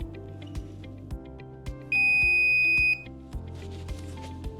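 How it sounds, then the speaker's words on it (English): Alarm of a walk-through weapons detection system sounding a steady, loud electronic tone for about a second, set apart from soft periodic thumps in the background. "But if you set the alarm off"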